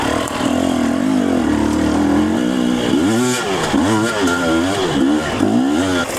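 An enduro motorcycle engine revs hard while riding uphill, a loud close droning that rises and falls in repeated throttle surges as the bike climbs.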